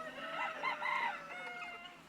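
Chickens on a chicken farm, with a rooster crowing amid clucking hens, close and clear over a quiet background, a single drawn-out crow in the middle.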